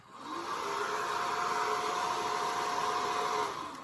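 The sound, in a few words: hair dryer blowing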